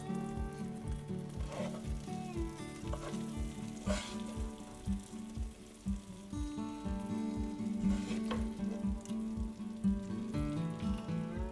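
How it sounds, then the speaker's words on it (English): Gravy poured into a pan of frying potato-stuffed chillies bubbles and sizzles at close range, with a rapid, uneven popping and spluttering that continues throughout. "I'm going to add a bit more gravy now."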